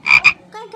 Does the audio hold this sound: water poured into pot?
no